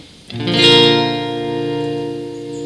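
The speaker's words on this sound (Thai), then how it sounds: "อันนี้ก็เป็นเสียงของเอฟเฟกต์เทรมโลนะครับ" Guitar plays a ringing sustained chord through a Cherub GB2i multi-effects unit with tremolo engaged, loud and pulsing gently as it decays, with a wash of reverb and no talking.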